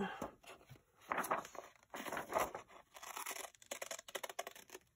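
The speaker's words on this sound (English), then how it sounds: "I'm gonna cut this one out. Oh, scissors." Scissors snipping through paper while cutting out a collaged coin envelope pocket, heard as close, crisp, irregular cuts with faint paper crinkling between strokes.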